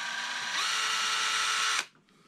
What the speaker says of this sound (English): Use a 5/16, 5/64 drill bit and just get a pilot hole started here.